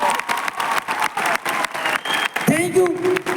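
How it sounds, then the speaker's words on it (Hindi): An audience claps in uneven bursts, the applause rising and dropping in short surges, with a tonal electronic squeal cutting in near the end. "एक बार हमारे पिताजी के लिए डायरेक्ट दिल से तालियां हो जाए"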